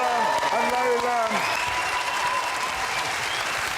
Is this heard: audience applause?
yes